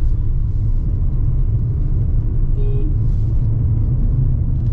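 A car cruises in fifth gear on an open road while overtaking, giving a continuous low engine and road rumble heard from inside, steady and moderately loud with no talking.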